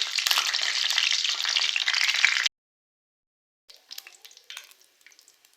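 Whole cumin seeds crackle and fry in hot oil with a loud, dense, bright sizzle for about two and a half seconds, then abrupt silence followed by fainter intermittent spitting.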